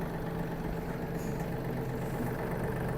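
A Yanmar AF-324 mini tractor engine idles quietly while warming up, holding a low, even hum throughout.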